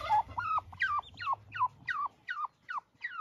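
Young turkey chicks peep in a quick series of high, sliding calls, about eight in a row, close by and fairly quiet.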